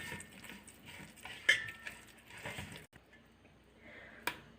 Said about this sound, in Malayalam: നമുക്കിതൊന്ന് ഇളക്കിയെടുക്കാം.